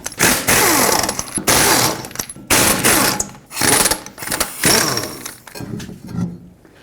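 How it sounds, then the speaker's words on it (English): Lug nuts coming off a 2003-2008 Toyota Corolla rear wheel with a 21mm socket on an impact tool, sounding as loud, close bursts of harsh rattling hammering, about five runs separated by short pauses. "Use a 21mm socket and take off all 5 of your lug nuts so we can take the wheel off."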